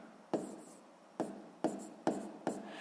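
Numbers written out by hand while solving a sixth-grade fraction problem: five short, quiet scratching strokes at an uneven pace, each starting sharply and trailing off, with no talking.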